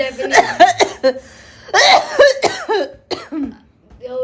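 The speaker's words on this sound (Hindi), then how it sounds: "हंसते हंसते खांसी आने लगी।" Several bursts of coughing brought on by laughing, mixed with voiced, laugh-like sounds, close and fairly loud, coming in uneven fits.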